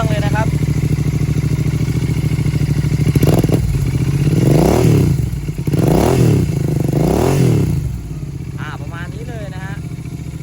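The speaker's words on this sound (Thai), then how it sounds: "เรามาฟังเสียงท่อกันหน่อยนะฮะ อ่าสตาร์ทติดทีเดียวรู้เลย" A 2019 Royal Enfield Interceptor 650 motorcycle idles with a steady exhaust thrum, then revs sharply several times in a row before settling back to idle, close by and loud.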